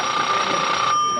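A telephone rings continuously in a TV studio, a steady electronic bell tone holding loud for about a second before cutting off, with faint room murmur underneath.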